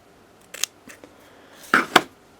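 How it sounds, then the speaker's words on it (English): Scissors snip through low-tack masking tape being cut for airbrush masking, a few crisp close cuts in quiet: a small snip near the start, light clicks, then two louder sharp cuts near the end, with no voices. "I'm going to cut everything with scissors, no tearing"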